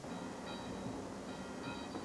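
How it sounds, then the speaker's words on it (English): A freight train rolling across the Conrail bridge, heard as a steady low rumble with faint high metallic squeal tones, distant and continuous without any talk. "We got a train on the Conrail."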